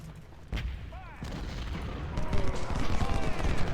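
Cannon blasts and rifle gunfire from the Civil War strategy game Ultimate General: Civil War, a dense battlefield din with a sharp shot early on and a swelling, continuous crackle of volleys in the second half, with some chirping tones over it.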